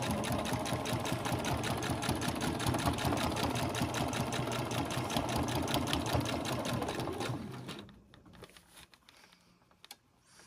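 A sewing machine stitching a curved seam on a basic backpack runs in a fast, steady rhythmic whir for about seven seconds, then stops, leaving faint handling noises.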